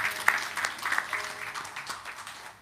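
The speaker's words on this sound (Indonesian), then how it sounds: "Sekali lagi boleh tepuk tangan buat Mas Zaim." An audience at a religious talk applauds a guest in short, light clapping that stays fairly close and moderate, with a few sharper claps standing out before it fades.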